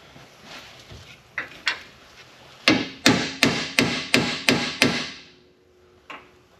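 A hammer strikes sharply several times while working on a chopped car frame: a few scattered taps, then a steady run of about seven loud blows, and one last hit.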